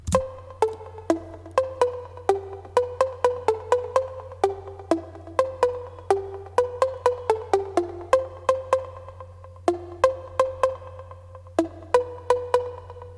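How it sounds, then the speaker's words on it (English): Plucky electronic synth line layered from two Operator synths, one a simple pluck and the other white noise, playing a quick repeating melodic pattern of short bright notes over a sustained low drone, moderately loud and without speech. "The next sound is called Plucked"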